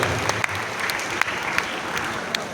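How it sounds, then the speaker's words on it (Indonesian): An audience at a healing and deliverance church service claps in a brisk, even burst of applause with a few sharper individual claps standing out, sustained for a couple of seconds. "Beri tepuk tangan."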